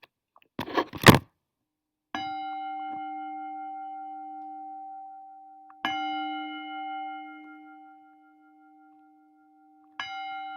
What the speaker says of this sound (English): So I'm going to invite the bell.